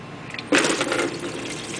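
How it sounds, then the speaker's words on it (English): Dirty transmission fluid pours from the main drain plug, a 10mm Allen, under a 2003 Audi TT automatic, starting as a sudden steady liquid gush that keeps splashing into a pan close by. "here it's going to start draining out, because this is the main drain point"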